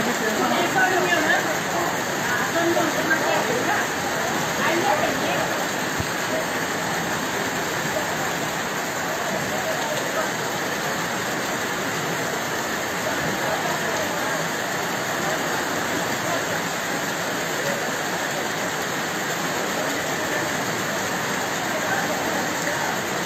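Rainwater rushes steadily through a small roadside drain that was once a larger channel, a constant broadband wash heard close and continuous, with no voices over it.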